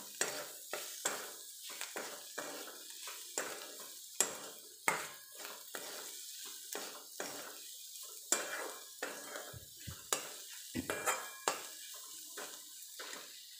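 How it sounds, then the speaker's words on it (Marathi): Ground green chilli and garlic paste sautéing in a pan for tomato chutney, with a steady close sizzle and repeated sharp scrapes and taps of a spoon against the pan in an uneven stirring rhythm, no voices. "हिरवी मिरची व लसूण वाटून घेतला होता बारीक. तो पण मी परतून घेणार आहे."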